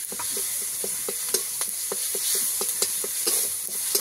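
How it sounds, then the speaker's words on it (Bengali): Ginger and tomato fry together in a pan with a steady sizzle, broken by quick, regular scraping strokes of a utensil stirring the mixture, close and fairly loud. "আদা আর টমেটো ভালো করে একসঙ্গে ভেজে নেব।"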